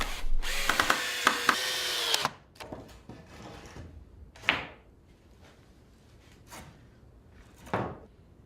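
A power drill drives screws into a wooden door frame being built for a crow trap, giving a loud, close burst of whirring and stuttering at the start, followed by quieter knocks and clatter of wood being handled.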